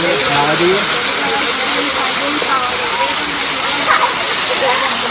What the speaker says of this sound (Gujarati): સુનિલભાઈ અત્યારે આ ધોધની મજા માણી રહ્યા છે